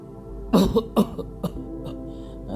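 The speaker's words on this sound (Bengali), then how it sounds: "সকালেই তুমি চুরুট খাচ্ছ, তোমার কাশি হচ্ছে না?" A cartoon character coughs from smoking a cigar: about four or five hoarse, close coughs in uneven bursts over a low hum, with no talking.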